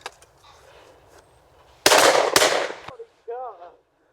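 Two loud, close shotgun blasts fired in rapid succession at a clay shooting event, each with a sharp crack and a short tail, followed by brief speech.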